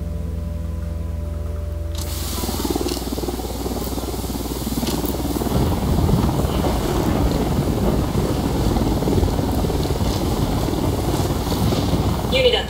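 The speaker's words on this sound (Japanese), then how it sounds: "伏せて、ヘリコプターよ。" A helicopter flies in the Ghost Recon Wildlands video game. After two seconds of quiet hum, a loud, steady rotor roar cuts in abruptly and holds strong and close for the remaining ten seconds.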